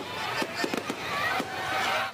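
Fireworks bursting above an outdoor stage whose roof is on fire, several crackling pops and booms over a continuous roar of crowd and fire noise.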